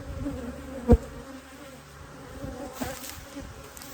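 Honey bees buzz steadily around hive boxes in an outdoor bee yard, a continuous low insect drone with a brief louder bump near the start and a faint one later, no talk.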